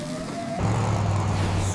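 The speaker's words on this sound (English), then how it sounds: "Rev your engine to generate a power surge." Cartoon mega truck revving its engine, a short rising engine roar that settles into a steady, close hum, with no one talking.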